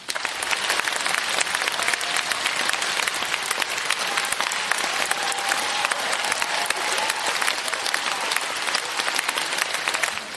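A large convention audience breaks into sustained applause for a guest stepping onstage, a dense, steady wash of many clapping hands holding at even strength throughout.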